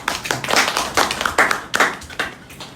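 A small group at a youth church gathering claps, a few people giving a loose, uneven round of applause with distinct hand claps over about three seconds.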